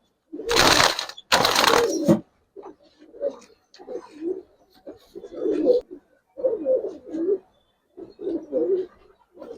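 Giribaz pigeons give a short burst of loud flapping, then a long series of soft, rhythmic coos repeated close by in steady phrases.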